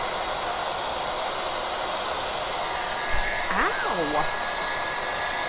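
A heat tool blows hot air onto a Dollar Tree acorn and sunflower hot pad fall craft, giving a loud, steady whooshing roar. A brief exclamation and a thin whistling tone rise over it partway through.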